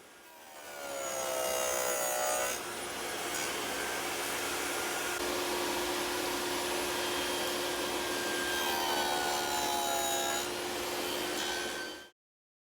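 A table saw fitted with a 1/2-inch dado cutter cuts an angled groove along the taped corner of a small veneered box, a steady, loud whirring roar that spins up, holds for several seconds and then stops abruptly.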